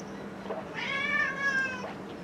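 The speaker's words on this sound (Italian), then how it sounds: "anche il gatto che vuole il latte" Nearby, a cat gives a drawn-out meow, then a shorter follow-up cry, over faint room noise.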